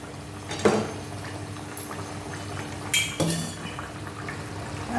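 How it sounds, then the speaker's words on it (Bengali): Water is poured into a pot of simmering fish curry, a steady liquid splash and bubbling with a couple of soft clinks, close by and moderately loud. "আর একটু জল দিতে"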